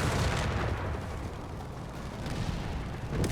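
Centaur anti-aircraft vehicles fire steadily during a Company of Heroes 3 battle, a dense, continuous rumble of rapid gunfire and blasts at an even level for the whole stretch.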